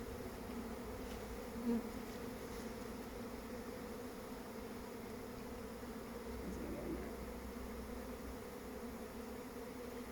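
Honeybees buzz in a steady, dense drone around an open hive during a beekeeping inspection in Scotland, a continuous hum close by with no voices.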